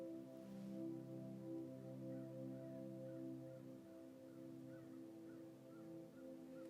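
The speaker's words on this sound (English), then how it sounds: "It's too late at night for that to be a bird, so I'm assuming that is a fox." A fox calls at night, giving faint, harsh, crow-like barks that repeat a few times at a distance over a steady low background hum.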